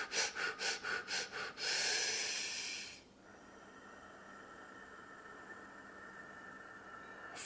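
Breath of fire breathing exercise: about seven quick forceful nasal breaths in a steady pulse, then one long rushing exhale fading into quiet room hiss, close and alone.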